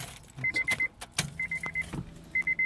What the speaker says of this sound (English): I think that's the fuel pump.